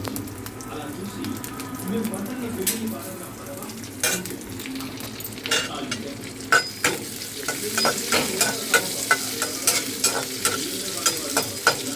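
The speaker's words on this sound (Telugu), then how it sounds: "పచ్చిమిర్చి కొంచెం వేగాలి." Slit green chilies fry with cumin seeds in a pan of oil. A steady sizzle runs under sharp scraping and tapping from stirring, which turns into a fairly regular rhythm toward the end.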